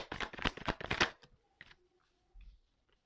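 Tarot cards are gathered and handled, making a quick run of close riffling and shuffling rustles that gives way to a few soft, scattered card taps and slides.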